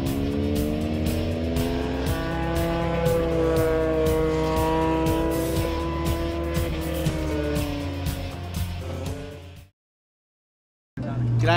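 A race car drones steadily at high revs on a road course, its engine note shifting as it brakes into a corner, loud and close, then cuts to silence before the sound returns.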